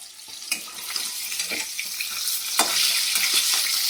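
Hilsa fish heads fry in hot oil with a dense, steady sizzle and crackle, punctuated by sharp spatters and a few soft stirring knocks, close up and without talk.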